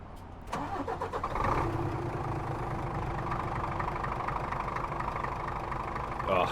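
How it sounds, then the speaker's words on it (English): A Scania truck engine in a trucking simulator game cranks briefly, catches and settles into a steady, rumbling diesel idle with a faint knocking texture, loud and close with no talking. "They just released an update to their Scania engine sound."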